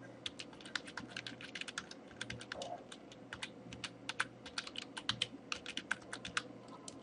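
Typing a domain name on a computer keyboard, a steady run of crisp, close key clicks at an uneven, quick pace against a low hum, with no talking.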